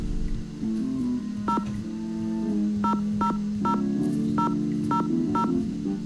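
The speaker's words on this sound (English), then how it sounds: "My phone is just ringing." Telephone in the Nancy Drew game The Haunted Carousel sounding as a repeated electronic tone, a series of short sharp beeps spaced about half a second apart over a steady low hum, with no talking.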